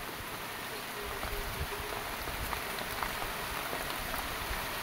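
Steady rain falling outdoors, a dense even hiss of drops on surfaces lasting throughout at moderate level, with no voices.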